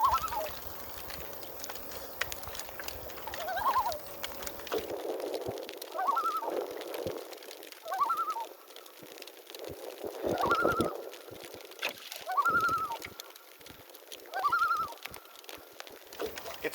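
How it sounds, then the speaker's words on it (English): Loons calling back and forth on Pigeon Lake along the Trent-Severn waterway, a series of wavering hoots repeating every couple of seconds, moderately distant over a quiet open-water background. "It's always nice getting to hear the sound of loons calling each other like that."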